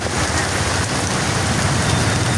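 Heavy rain pours down steadily, a dense, loud, continuous hiss of drops drumming on surfaces throughout, with no voices.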